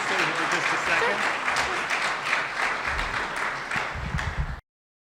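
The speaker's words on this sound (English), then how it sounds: "Let's give a round of applause for the chief" Applause from a room of attendees at a Rotary club police recognition luncheon, honoring the police chief; steady dense clapping for about four and a half seconds, then cutting off abruptly.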